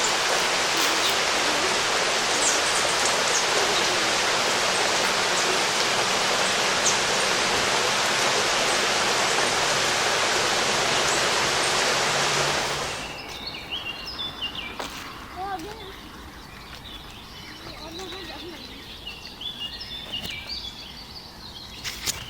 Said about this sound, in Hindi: बारिश हो रही है, बारिश शुरू हो गई।